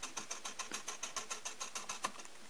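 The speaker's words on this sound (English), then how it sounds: "focusing the camera just by clicking buttons" A camera lens autofocus motor, driven through Magic Lantern firmware in live view, steps in quick rhythmic ticks and whirs, close and faint.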